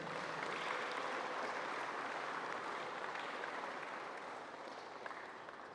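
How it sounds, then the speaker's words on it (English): Applause for the sponsors at the Kreyol Basketball Championship opening-night ceremony, a broad wash of many clapping hands, moderately distant and steady, tapering gently over the last seconds. "Please let's give the sponsors a round of applause."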